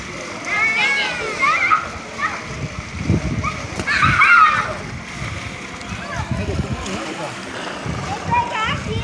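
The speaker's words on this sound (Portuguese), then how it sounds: "Estão brincando aqui de piscina" Children play in a swimming pool, splashing and sloshing the water nearby in repeated bursts, with kids' voices and shouts throughout.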